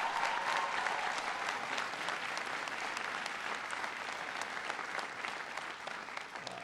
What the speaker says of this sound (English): Give James a big round of applause.